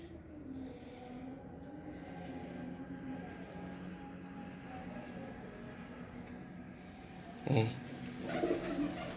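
Pigeons on a rooftop coo in low, rolling phrases under a steady background hum, with a brief louder rustle or burst near the end.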